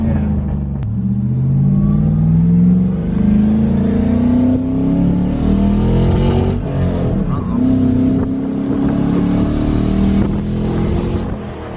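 An LS-engined car runs loud and close with a steady rumbling idle that rises and dips, briefly faltering near the middle as it cuts out intermittently, then picks back up.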